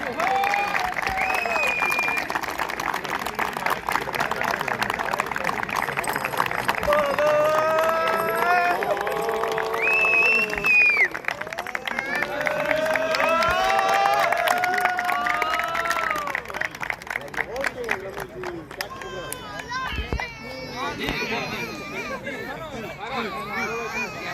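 An audience claps and cheers for a second-place cup winner at an award ceremony, sustained applause and crowd noise with children's voices mixed in and an announcer's voice over the top.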